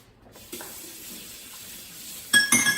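A kitchen tap runs into a sink during washing up while baking keto biscuits, a steady moderate stream of water that swells louder and splashier near the end, with no talking.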